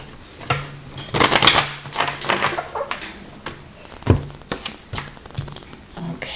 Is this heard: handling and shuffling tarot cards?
yes